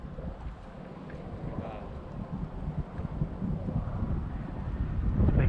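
Gusty wind blowing across the microphone on an outdoor hunt, a steady low rumble that swells toward the end, with faint voices underneath.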